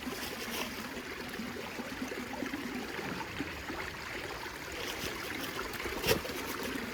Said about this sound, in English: And give that a little rinse.